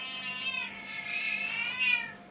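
A domestic cat meows close by in a drawn-out, wavering call that rises and falls over about two seconds, clear and alone with no talking.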